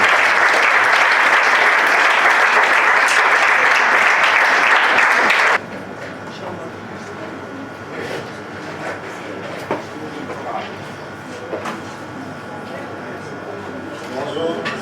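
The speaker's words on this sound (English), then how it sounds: "with a round of applause, let's welcome the financial director." An audience at a national debate championship final in Togo gives a loud, dense round of applause that stops abruptly after about five seconds, leaving a quiet room with faint shuffling.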